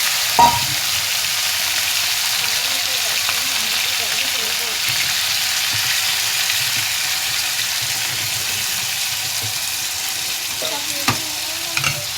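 Marinated chicken frying in hot oil, a steady loud hiss and sizzle lasting throughout, close by, with a few clinks and bumps of utensils.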